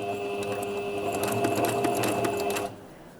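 A sewing machine runs steadily for about two and a half seconds while sewing down a popcorn-square crochet bag panel, then stops, close and fairly loud with no talk.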